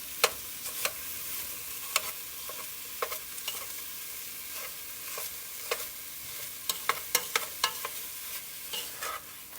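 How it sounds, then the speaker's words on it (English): A spoon scraping and breaking up turkey sausage as it cooks in a pot for sausage and kale soup, with a steady sizzle under irregular sharp metallic clinks and scrapes. "now I'm coming in with the spoon and just lightly breaking them."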